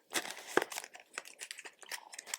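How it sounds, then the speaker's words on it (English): A stack of game cards is shuffled by hand, giving a quick run of close, crisp riffling and snapping rustles with small pauses between bursts, and no talk. "I give a bit of a shuffle, which I'm not amazing at shuffling"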